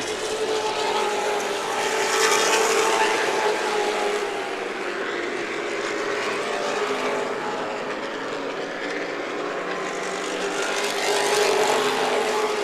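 Late model race cars running hard at Irwindale Speedway, with a continuous engine roar that swells and eases as the cars pass, heard from a distance and holding steady throughout with no speech.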